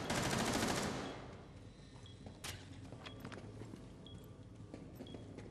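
Gunfire in the tactical shooter Rainbow Six Siege, a dense burst of automatic fire opening the moment, then sparse, sharp single shots and faint in-game footsteps over quieter background.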